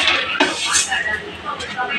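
Fried vermicelli and Maggi noodles tumble into a pan and get stirred, with close metallic scraping and clinks of a utensil against cookware, and a voice talking faintly underneath.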